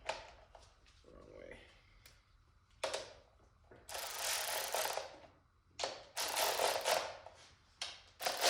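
A ratchet clicks in short bursts while tightening bolts to torque spec on a KA24DE engine, each pass a quick run of close, rapid pawl clicks separated by brief pauses.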